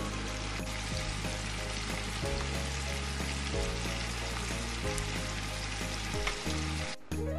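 Onions sizzle in hot oil as a baghar tempering for haleem, a loud, dense, continuous frying crackle over a low steady hum, with a brief clatter near the end.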